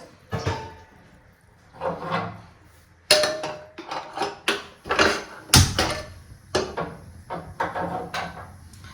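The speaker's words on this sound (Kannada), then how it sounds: "ಈ ಕುಕ್ಕರ್ ಒಳಗಡೆ ನಾನು ಗಿಣ್ಣು ಹಾಲು ಹಾಕ್ಕೊಂಡಿದ್ನಲ್ಲ ಆ ಪಾತ್ರೆನ ಇಡ್ತಿದ್ದೀನಿ" A metal vessel of colostrum milk is set down inside a pressure cooker, giving a close, irregular series of sharp clanks and knocks of metal on metal, with no talking.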